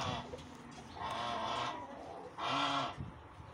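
Tame hens clucking in soft bursts, with a couple of louder cackles toward the end, close by against faint background noise.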